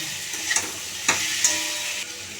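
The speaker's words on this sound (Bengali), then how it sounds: "দিয়ে এবার আলু আর পটল দিয়ে ভালো করে কষিয়ে নেব।" Potatoes and pointed gourd frying in masala give off a steady, close sizzle, broken by a few sharp scrapes and clacks of a spatula stirring the pan.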